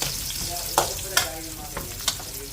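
Onion frying in a pan for pork binagoongan adobo, a soft continuous sizzle broken by a few sharp stirring scrapes and clatters, moderately quiet and with no voices.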